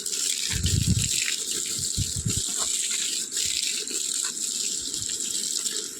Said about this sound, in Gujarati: આજે બધામાં પાણી મૂકી દેવાનું દબાઈને